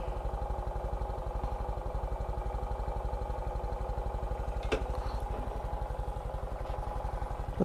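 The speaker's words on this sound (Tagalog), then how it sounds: "Pumangit yung takbo ng motor ko ah." A motorcycle engine runs roughly at a steady idle-like pace, with a fast, even low putter and a clattery texture, heard close and alone, with one brief sharp knock midway.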